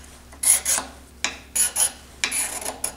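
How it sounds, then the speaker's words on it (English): Handheld woodturning scraper abrading a spinning wood surface on a lathe, a series of short raspy scraping strokes in irregular bursts, close and fairly loud, no talking. "I'm kind of abrading the surface like sandpaper."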